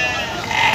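Sheep or goats bleating at Gabtoli livestock market, the cattle market where two goats and a sheep were sold together; a single short, loud, wavering bleat fills the clip against crowd noise.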